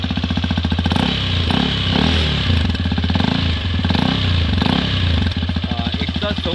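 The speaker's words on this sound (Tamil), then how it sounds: "நான் வந்து ரேஸ் கொடுக்குறேன், அப்போ அந்த எக்ஸாஸ்ட் சவுண்டு வந்து நீங்கள் கேளுங்க." Hero Xpulse 210 dirt bike exhaust revving up close, a loud rapid popping idle surging in repeated bursts of throttle.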